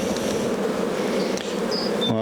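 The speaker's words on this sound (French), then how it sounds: "Il y a pas mal d'abeilles." Honeybees swarm and buzz steadily around an opened hive during a spring colony inspection, a dense, continuous hum close to the listener with no talking over it.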